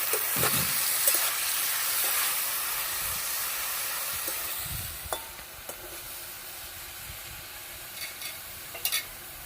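Eggplant and cauliflower stems frying in a pan for a Bengali chorchori give a constant hissing sizzle. Scattered scrapes and taps of a spatula stirring the pieces punctuate it, close and fairly quiet.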